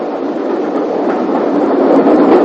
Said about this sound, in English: this was to be the very last train on the branch